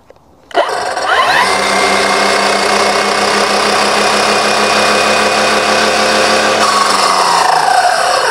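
A powerful Greenworks battery string trimmer clicks on, winds up quickly to a high electric whine, then runs at a steady, loud, close-up speed with a slight shift in tone near the end, with no talking.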